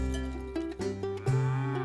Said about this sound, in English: The cow moaned an impatient moo.